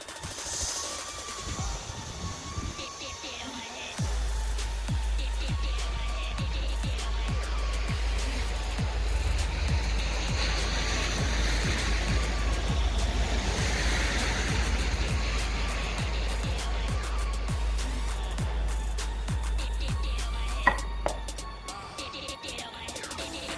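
A Tri-Runner 250 running, a steady low motor drone that starts after a few seconds, holds for most of the stretch with scattered clatter, then cuts off near the end.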